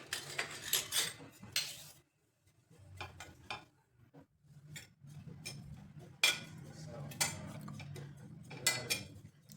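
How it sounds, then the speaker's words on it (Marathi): Grated dry coconut roasting without oil in a pan over a low flame for a traditional spicy Maharashtrian curry, heard as intermittent spatula scrapes and light metallic clinks against the pan, close but fairly quiet, with short pauses. "आता भाजून घ्यायचे खोबऱ्याचा किस. ह्याला लो फ्लेमवरती भाजायचे."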